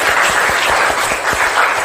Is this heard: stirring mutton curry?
no